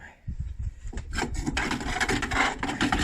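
A bandsaw rough-cuts the wooden frame of a hunting catapult, a close rasping, scraping cut that starts after a faint quiet moment and continues steadily with uneven texture.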